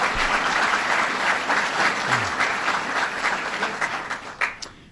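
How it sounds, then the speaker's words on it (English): Sustained applause from an audience at a public event in Chautauqua County honoring Mike Metzger, dense steady clapping filling the whole stretch and thinning slightly toward the end. "Let's give him a round of applause and thank Mike Metzger."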